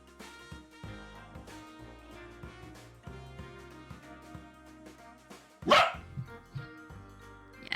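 Dog barking in short repeated yaps over a steady tonal music bed, with one louder sharper bark burst near the end standing out above the background.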